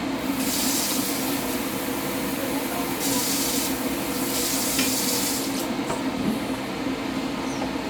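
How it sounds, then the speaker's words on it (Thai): Hot oil boiling, hissing and sizzling steadily up close, a continuous crackling spray of noise that swells in brief louder bursts. "น้ำมันเดือดดุนเดือดดาน"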